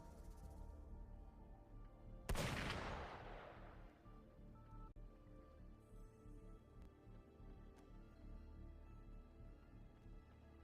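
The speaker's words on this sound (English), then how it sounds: "Gunfire!" A single loud gunshot in the video game Wuthering Waves cracks out and booms away over a couple of seconds, leaving a steady low ambient hum with no other shots.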